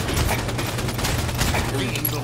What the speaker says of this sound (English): And you just saw my first kill there with the assault rifle.